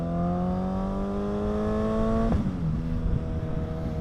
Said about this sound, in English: sometimes I like to, rev match and downshift myself because I like the way it sounds